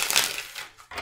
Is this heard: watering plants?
no